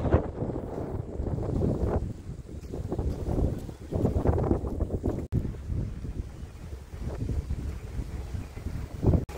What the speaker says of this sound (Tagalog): Hala, lakas ng hangin.